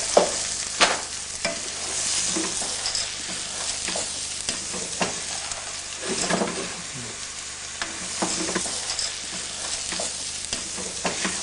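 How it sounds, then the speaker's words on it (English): Veggie mince frying gently in oil in a pan, a steady close sizzle broken by repeated scraping strokes of a utensil stirring the pieces. "We'll just fry this gently,"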